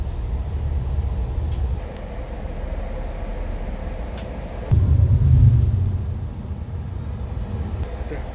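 Inside Amtrak's Pacific Surfliner train 777 between Fullerton and Los Angeles, a steady low rumble of wheels on track fills the cabin, swelling into a heavier roar midway, with faint clicks and no clear speech.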